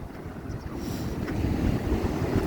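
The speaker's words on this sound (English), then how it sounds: "Them waves are still rolling in though" Strong gusting wind buffets the microphone while waves roll in at a 10 metre high tide on the Blackpool seafront, a dense, rumbling wash that builds slightly over a couple of seconds.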